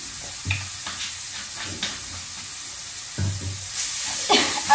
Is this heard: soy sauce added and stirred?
yes